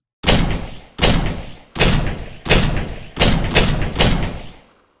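Six layered gunshots from a first-person MOBA built in Unreal Engine 5, fired at a steady, slightly uneven rhythm, each a loud full-band crack with a heavy low thump and a short decaying tail, with no talk.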